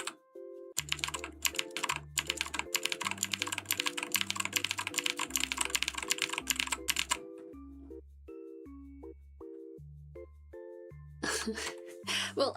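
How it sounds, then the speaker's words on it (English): Typing on a mechanical computer keyboard, close-up rapid clacking keystrokes in bursts over a rhythmic backing beat, pausing in the middle before another quick flurry of keys at the end. "You can hear my keycaps, like actual keycaps."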